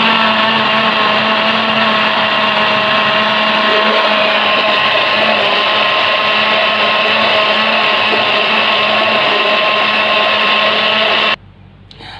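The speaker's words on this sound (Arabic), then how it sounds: "هنشغل الخلاط بقى ونعمل العصير" A kitchen blender whirs at full speed, blending oats, banana and milk into a smoothie, a loud, steady, high-pitched motor drone that runs unbroken for about eleven seconds before cutting off abruptly.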